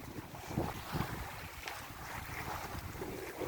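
Sailboat running into Portsmouth in gusty conditions, with steady wind rush buffeting the microphone and water washing against the hull, continuous and fairly close with no voices.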